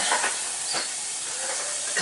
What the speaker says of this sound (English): Now I'm turning down the heat a bit because I want it to steam quickly.